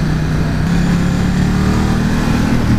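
A Ducati XDiavel motorcycle engine drones steadily during a ride, a loud, continuous low rumble with a dense, unchanging tone and no speech.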